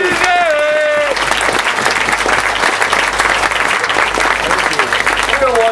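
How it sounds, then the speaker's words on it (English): Guests at a wedding reception give the best man a loud, sustained round of applause, dense clapping from a full room right after a spoken line. "And I think you deserve a round of applause."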